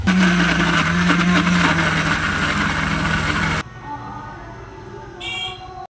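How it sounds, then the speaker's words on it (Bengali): Electric mixer grinder running loud and whirring with pointed gourd and shrimp for kofta, then cutting off abruptly partway through, leaving quieter room noise and a brief clatter. "সবগুলো আমি মিক্সারে দিয়ে দিয়েছি এবার মিক্সারের মধ্যে দিয়ে একটু মিক্স করে নেব"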